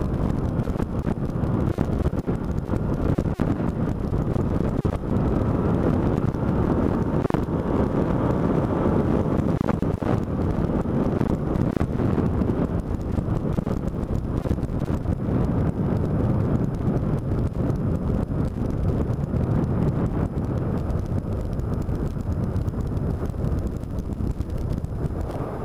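Steady roaring wind buffeting and low engine drone from a Yamaha FZ-07 motorcycle cruising at speed, loud and continuous throughout with no talk.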